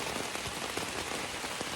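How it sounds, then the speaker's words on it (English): Steady rain drums on a backpacking campsite along a forest hiking trail, with a dense, even hiss and close patter of drops on nearby surfaces and no voices. "And now the rain started."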